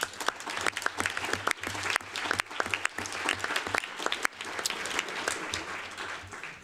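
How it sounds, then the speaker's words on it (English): An audience at a campaign event to end caged farming gives a committee a sustained, loud round of applause, dense clapping that carries on steadily throughout with no pauses. "Please, a round of applause for our committee."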